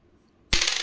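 A 10 rupee mono-metal coin from the 2014 Hyderabad mint drops after a moment of near silence, striking once with a sharp, close metallic clink that rings on bright and loud to the end.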